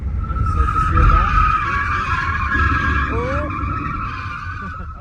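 Tires squeal in a sustained skid as a Ford Mustang Mach 1 oversteers on a race track, the engine droning loud and close throughout while people talk over it.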